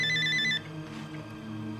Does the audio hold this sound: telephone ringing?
yes